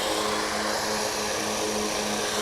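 Propeller aircraft near DFW International Airport drones steadily with a continuous, moderately loud engine hum and no voices.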